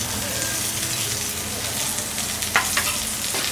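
Paneer bhurji sizzles steadily in a frying pan while a spoon stirs coriander through it, with a couple of sharp scrapes near the end and a soft continuous crackle underneath.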